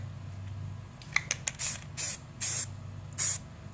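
Short hissing bursts of spray paint from an aerosol can as a Savage Axis rifle is coated, several quick spurts followed by longer sprays, close and fairly quiet with no talking.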